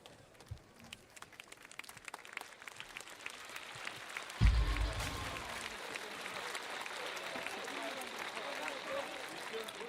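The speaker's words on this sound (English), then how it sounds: "A warm applause at the Riverbank Arena for these athletes." Spectators at the Riverbank Arena applaud during a 5-a-side football semi-final at the London 2012 Paralympic Games. A distant crowd claps steadily and swells after a low thud midway, with a commentator talking over it.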